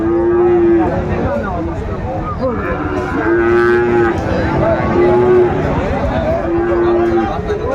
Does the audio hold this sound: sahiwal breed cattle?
yes